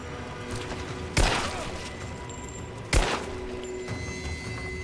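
Two sharp, booming gunshots ring out roughly two seconds apart from enemies in the game Rise of the Tomb Raider, each one decaying into an echoing tail over a steady background hum.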